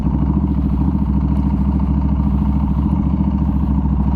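A Norton Commando 961 SF MK II two-cylinder motorcycle running close by, a loud, steady, throbbing idle with a heavy low pulse and faint mechanical clatter throughout.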